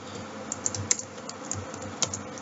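Light, close computer keyboard typing while PHP code is entered, with scattered individual key clicks at an uneven pace over a steady background hiss.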